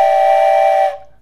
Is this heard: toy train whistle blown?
yes